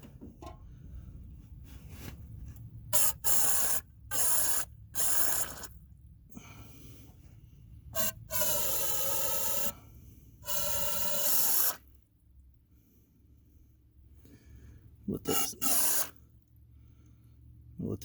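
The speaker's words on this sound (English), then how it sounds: "I'm trying not to make too big of a mess out of this brake clean" Brake cleaner is sprayed into a car's fuel system in a tight space, coming as repeated short hissing bursts of varying length separated by quiet gaps.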